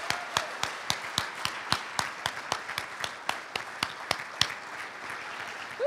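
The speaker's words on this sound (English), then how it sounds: "You may cheer." A crowd honouring volunteers at an award event gives scattered applause and cheers, with sharp separate claps landing in a quick, uneven rhythm at moderate loudness from start to end.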